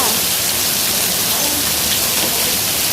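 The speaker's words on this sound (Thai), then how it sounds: "ตกเป็นลูกเห็บนะคะ" Dense, steady roar of a heavy hailstorm pounding down hard on a village, a continuous loud rushing clatter with no pauses.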